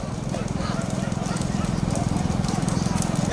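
Rapid thudding hoofbeats of a running bull on hard ground at a bull-running event in Thanjavur, steady and close, with faint shouting in the background.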